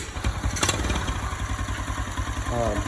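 A Lifan 125cc engine fitted in a Honda CT90 Trail 90 idles close by with a steady low, pulsing chug and light mechanical clatter, with a brief voice near the end.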